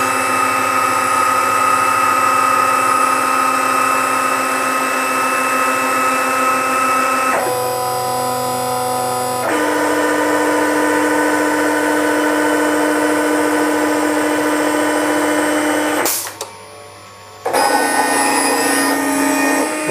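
A plotter machine draws a model plane plan with a pen on foam board, giving a steady, loud mechanical whine and hum that shifts pitch between passes, with a brief pause near the end before the motor resumes.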